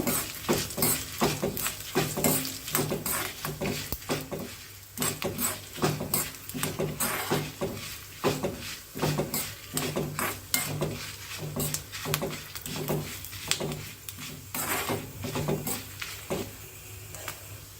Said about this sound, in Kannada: ನೆಕ್ಸ್ಟು ಒಣಮೆಣಸು ಇದನ್ನು ಚೆನ್ನಾಗಿ ಹುರ್ಕೋಬೇಕು